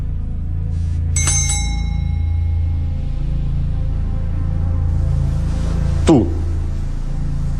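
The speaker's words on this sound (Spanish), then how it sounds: "quiero que escuches el sonido de esta campana" A single bell rings out clearly, its bright tone lingering and fading, followed a few seconds later by a sharp metallic strike over a steady low hum.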